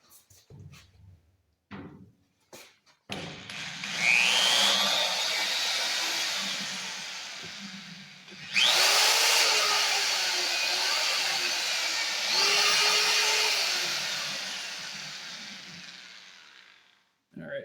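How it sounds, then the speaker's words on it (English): Big corded drill boring into metal on a 1948 Willys pickup, running in two long sustained bursts with a whining drone and a pause between, preceded by a few short clunks. "this big corded drill sure looks like overkill for what I'm trying to do"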